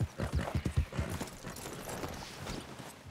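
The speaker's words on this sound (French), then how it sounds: "Il a zéro endurance, ce cheval." Hoofbeats from a horse in Red Dead Redemption 2 clatter in a fast, close rhythm at first, then fade into a softer, muffled rumble with a faint whinny.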